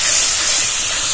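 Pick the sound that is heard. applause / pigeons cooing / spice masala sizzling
spice masala sizzling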